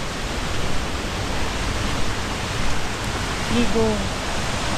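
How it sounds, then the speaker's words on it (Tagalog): Aliwagwag Falls in Cateel, Davao Oriental, roars as a steady broadband rush of falling water throughout, with voices talking over it near the end. "Ayan guys. Yung falls."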